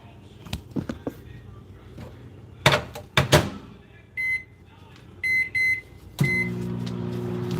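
Microwave oven humming steadily beside scattered clicks and clatter, then emitting short repeated electronic beeps and a final longer tone, fairly close and moderately loud.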